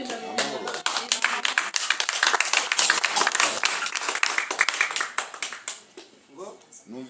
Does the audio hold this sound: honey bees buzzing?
no